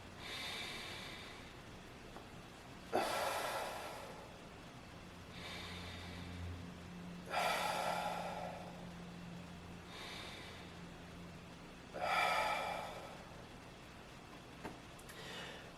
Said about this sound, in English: continue to breathe in and out.